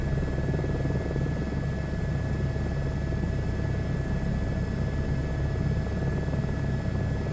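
Continuous helicopter drone with rapid rotor thumping and a steady high whine, close and even in level throughout, no voices, from a helicopter in flight in Microsoft Flight Simulator 2024.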